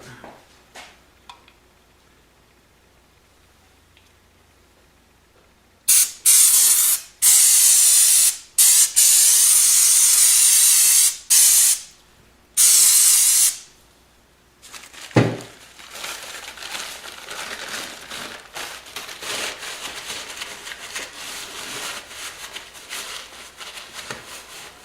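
Aerosol cleaner sprayed during maintenance on a CF Moto vehicle, heard as several loud, hissing bursts of a few seconds each with short gaps, followed by a quieter, steadier hiss and rustle.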